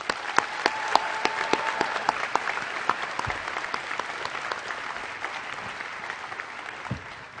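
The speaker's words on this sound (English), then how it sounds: "could you please join me now in giving them a much-earned round of applause" A graduation crowd at Seoul American High School applauds its senior class officers, a full steady clapping with distinct sharp individual claps standing out, carrying on for several seconds at moderate volume.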